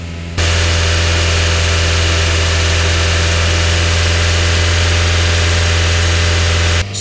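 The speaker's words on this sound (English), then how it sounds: "Rev the engine at 2500 RPM for 2 to 3 minutes." 2010 Mazda 3 engine held at a steady 2500 RPM, a loud, even droning hum with a constant low pitch that starts abruptly and runs unchanged for several seconds before cutting off, no voices.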